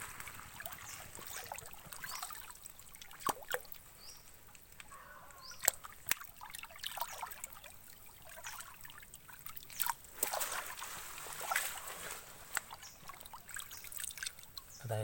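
A stream trickles and sloshes softly while stones are dug and shifted in it, faint water running with scattered clicks and knocks of rock.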